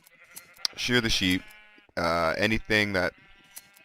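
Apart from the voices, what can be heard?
sheep bleating in video game Minecraft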